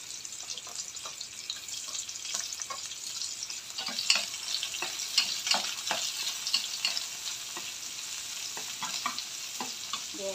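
Onion and garlic sizzle and fry in a pan as milkfish adobo is cooked, with steady sizzling, irregular stirring scrapes and a few clacks, close and moderately loud, with no one talking.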